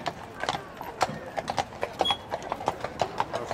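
Dutch horses pulling a carriage at an authentic carriage day in Hardenberg, their hooves clip-clopping in a steady trotting rhythm on a hard road, moderately near and unaccompanied by talk.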